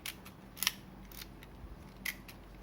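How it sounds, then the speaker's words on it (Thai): Two soft, brief mechanical clicks as film advances in an Olympus Pen EE-S half-frame camera, quiet and close against faint background hiss, with no talking. "ฟิล์มม้วนเข้าไปเรียบร้อยละ"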